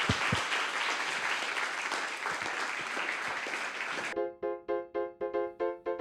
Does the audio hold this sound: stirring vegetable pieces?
no